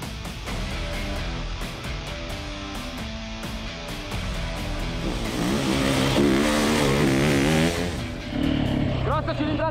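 A large-displacement four-stroke Beta RR X-Pro enduro motorcycle engine idles roughly on an enduro test course, then revs up in rising, throaty surges before dropping back and revving sharply again near the end.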